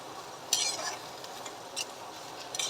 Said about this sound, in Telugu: ఈ మిల్ మేకర్లను ఇలాగా తిప్పుకుంటూ కలర్ చేంజ్ అయ్యేంత వరకు మనకి గ్రౌన్ గోల్డెన్ బ్రౌన్ కలర్ వచ్చేంత వరకు అయితే వీటిని ఫ్రై చేసేసుకోవాలి